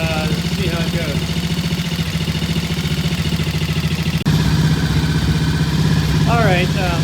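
A T20M motorcycle idles close by on a test ride, a steady low rhythmic engine throb running throughout under a man's speech.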